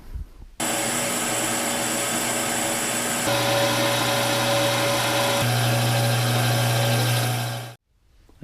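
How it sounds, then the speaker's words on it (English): A metal lathe turns old round steel stock into a tractor spacer, a loud continuous machining whine and hum that holds steady for several seconds with slight shifts in pitch before it cuts off abruptly. "So got this old piece of round stock here. I think I can see a new spacer in there somewhere. I just need to dig it out. Let's go over to the lathe."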